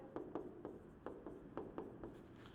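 Pen writing on paper during a bookkeeping and accountancy lesson: a run of short, close scratchy strokes in an irregular rhythm, faint and alone.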